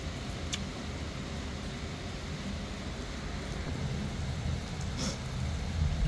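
Heavy rain pours steadily in Mueang district, Uttaradit, Thailand, a dense constant hiss with a low rumble of thunder beneath it and no voices.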